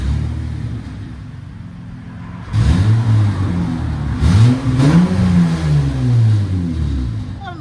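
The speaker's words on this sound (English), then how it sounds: "2008 Honda Accord V6. This is what it sounds like before." A stock-exhaust 2008 Honda Accord 3.5L V6 revs twice from idle, rising and falling engine tones that start after a steady low idle and stay loud and close, with no talking.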